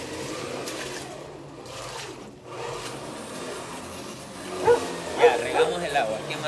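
A dog being bathed gives a few short, close barks and yips toward the end over running water, while people talk throughout.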